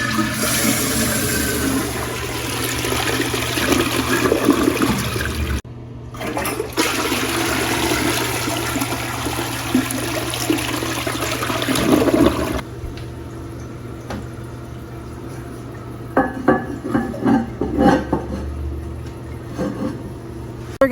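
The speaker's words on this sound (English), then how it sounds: "Let's give it a flush." A rebuilt tank on an old Eljer toilet flushes with a loud rushing swirl of water that drains off, then gives way to a quieter hiss and trickle as the tank refills.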